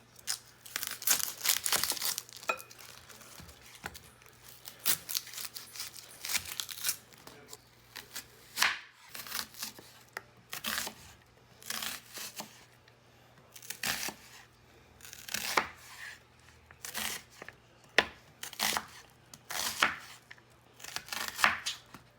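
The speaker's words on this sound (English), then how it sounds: "Next, I'm going to slice up this red onion." A red onion is sliced with a knife on a board: crisp, close cuts in an irregular rhythm with short pauses, and no talking.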